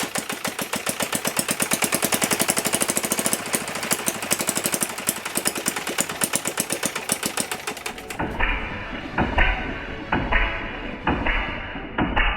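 Small metal 3D-printed gas engine running fast with a rapid, even mechanical chatter like a buzzing sewing machine, then switching to a slower, uneven knocking with irregular loud thumps, close and loud.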